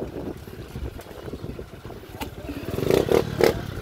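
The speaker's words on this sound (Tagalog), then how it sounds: "Ayan pong isang bangka." A small outrigger bangka motors near the shore at low tide, its engine a steady low drone that swells closer toward the end, with wind noise over the microphone and no talk.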